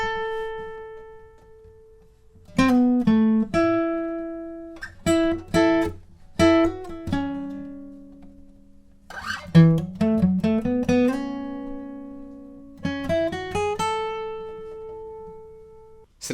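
Solo acoustic guitar playing the lead from a song, clean plucked melodic notes in short runs and phrases separated by gaps, each note ringing and decaying, moderately quiet and close with no voice.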